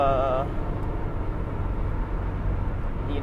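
Continuous low cabin rumble from a car driving on the 210 freeway, an even droning roar throughout, with a brief snippet of voice at the very start.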